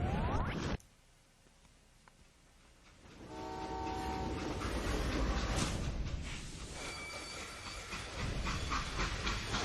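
A train in the video game Call of Juarez: Gunslinger rumbles along steadily after a sudden drop in noise, with a horn or whistle sounding partway through over the continuous rolling din.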